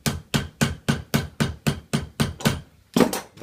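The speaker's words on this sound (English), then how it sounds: "Now on the steel mandrel, just get the mallet." A mallet beats metal over a steel mandrel while a traditional Guernsey milk can is shaped. About fourteen loud, close blows land at a steady rhythm of roughly four per second, with a brief pause near the end.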